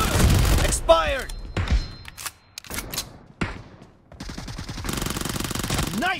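Gunfire in the BGMI video game: bursts of automatic shots and single cracks, close and loud, broken by short gaps, with voices speaking over parts of the action.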